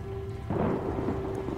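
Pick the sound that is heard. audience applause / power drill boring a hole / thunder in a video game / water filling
thunder in a video game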